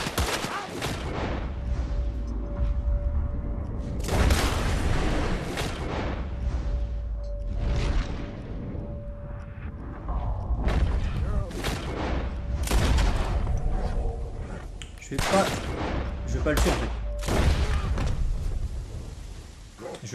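Dense bursts of gunfire in Red Dead Redemption 2 around Saint Denis, volleys of loud cracks and booms clustering every few seconds over a sustained tone, with someone talking between shots.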